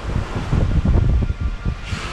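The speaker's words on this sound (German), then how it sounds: "Immer wieder werden wir von kleineren Squalls überrascht, die mit viel Wind über uns hinwegziehen." Strong squall wind at sea buffets a sailboat, a loud, steady roaring rush with gusty surges and a hiss rising at the end, no voices.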